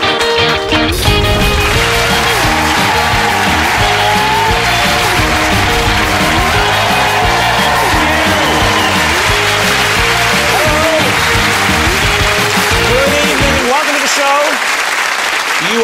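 A studio audience at a live chat show applauds loudly and steadily for about fourteen seconds, with a few cheers mixed in, before the clapping cuts off abruptly into near silence.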